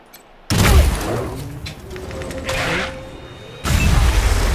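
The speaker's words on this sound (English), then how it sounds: "I'm gonna initiate combat with my new sniper rifle" Sniper rifle fire during combat in Wasteland 3, with loud sudden blasts at the start and near the end framing a mechanical, rumbling stretch of game effects between them; no talking.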